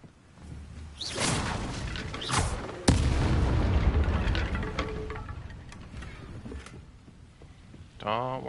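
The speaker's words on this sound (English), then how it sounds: "Don't worry about the explosions." Explosions in the Hogwarts Legacy video game on PS5, a run of booming blasts and whooshing bursts, one sharp heavy hit standing out midway, with a rumbling tail and a voice at the end.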